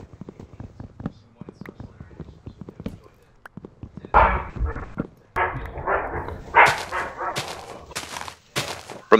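A dog barking inside a house where two young puppies live, with several loud barks and yips in bursts under quieter talk.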